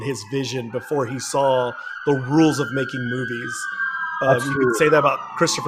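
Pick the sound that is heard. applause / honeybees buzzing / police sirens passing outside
police sirens passing outside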